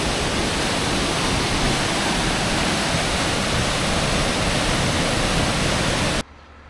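A roadside waterfall near Kaprun, Austria, heard as a steady, dense rush of falling water, loud and close, holding unchanged for about six seconds before cutting to quieter background.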